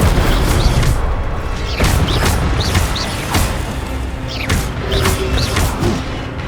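Repeated fiery spell blasts, Incendio, in the video game Hogwarts Legacy, a string of loud booming bursts and crackles at irregular intervals over a dense, roaring combat backdrop.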